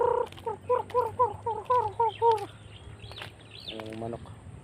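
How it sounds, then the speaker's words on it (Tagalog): A rapid series of squawking, clucking chicken calls, close and loud at first, then quieter calls and a short rasping cluck. "Ang mga manok dito."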